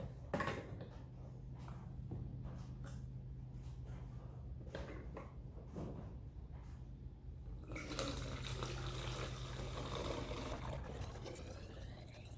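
Homemade wine is poured back into a jug, with faint splashing and scattered knocks that swell into a louder, steady gurgling flow toward the end.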